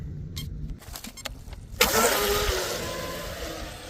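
A brushless RC boat motor fitted with a smaller prop on a mono hull, quiet and clicking at first, then suddenly spinning up into a loud, steady, high-pitched whine that holds to the end.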